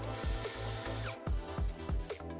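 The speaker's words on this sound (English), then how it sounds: "Now drill the mounting screw pilot holes." A small power drill whirs in short bursts, drilling pilot holes for lock mounting screws in an aluminum door, starting and stopping several times in quick succession, close and moderately loud.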